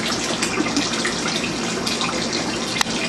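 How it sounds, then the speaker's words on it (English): Water from a sump pump pours steadily into a koi pond, a constant close splashing rush with no breaks. "Here's the water coming in right now from the sump pump, which is 350 feet away from the stream."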